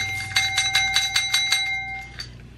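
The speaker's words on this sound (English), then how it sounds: "The next thing we got is a little bell." A small Dollar Tree bell rings in a quick series of about eight bright, even strikes, close and loud, then a couple of fainter rings as it fades out.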